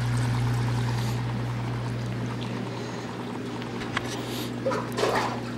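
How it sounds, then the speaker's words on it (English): Water pours from a polyethylene line into a fridge reservoir, a soft continuous splashing trickle heard close over a steady low hum, with a few small clunks near the end. "I just flick this valve open and fill my reservoir."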